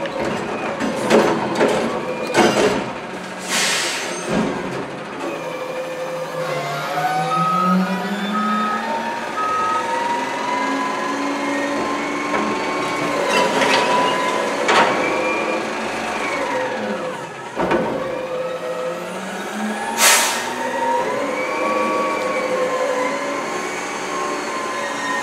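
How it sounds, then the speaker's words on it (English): A recycling truck at work, its engine rumbling with whining hydraulic tones that rise and fall, broken by sharp bangs and a loud burst near the end, close and loud throughout. "here's a quick shot of the recycling truck."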